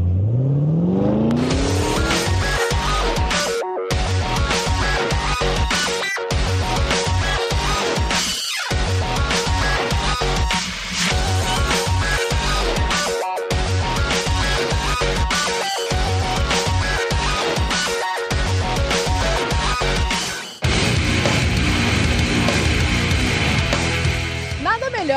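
GT3 race cars of the Brazilian Gran Turismo championship roar at the Interlagos circuit, with loud, continuous revving engines rising and falling in pitch across the whole stretch.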